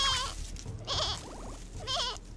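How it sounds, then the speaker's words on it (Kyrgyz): A lamb caught in a bush bleats in three separate wavering cries, close and fairly loud, with short pauses between them and no talking. "Мен анын маараганын угуп жатам."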